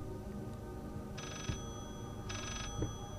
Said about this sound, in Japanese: 電話の音が大きくなってます。